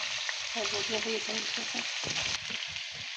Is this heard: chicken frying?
yes